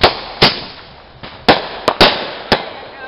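Firecracker-like bangs from a firework, about seven sharp cracks at uneven intervals, loud and close, no voices.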